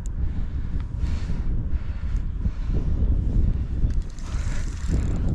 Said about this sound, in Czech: Začalo strašně foukat, úplně hrozný orkán, zved se vítr